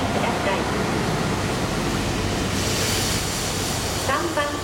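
A KiHa 183 series Okhotsk limited express diesel train pulling into Sunagawa Station at night, a loud, steady rumble and roar close by, with a faint station chime near the end.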